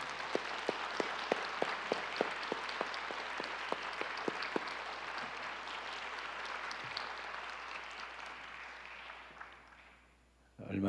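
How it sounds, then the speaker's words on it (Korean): Congregation at an evening church revival meeting applauding to welcome the pastor, with a run of evenly spaced claps for several seconds that then blurs into a softer crowd wash and fades near the end. "크게 박수로 환영했으면 좋겠습니다"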